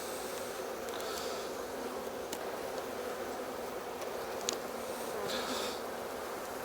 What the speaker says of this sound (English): The bees are obviously not happy about having their brood nest split open.